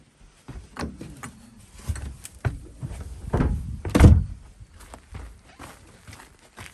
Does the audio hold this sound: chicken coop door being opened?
yes